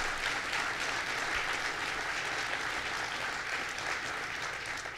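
A crowd at a New York governor's public funding announcement gives sustained applause. Many hands clap in a thick, even wash that holds steady for five seconds, tapering only slightly at the end, with no talk over it.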